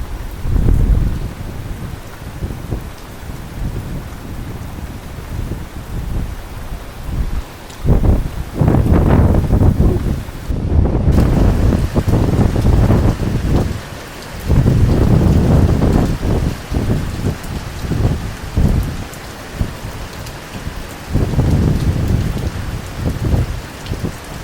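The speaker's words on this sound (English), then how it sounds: "sitting outside with electronics in the lightning storm." Heavy rain pours steadily during an electrical storm, with bursts of thunder rolling in and out over about twenty-five seconds, loud and close, with no talk.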